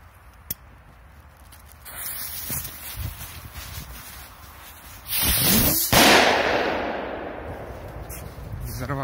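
A Blitz firecracker is lit, then goes off overhead with a couple of sharp cracks and a burst of crackling hiss that fades out. Someone talks in the background.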